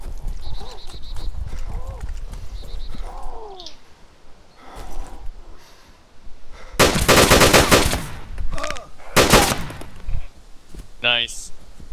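Gunfire and a bullet ricochet in DayZ, with bursts of loud shots in the middle and a short whining ricochet near the end, mixed with other game sounds and voices talking.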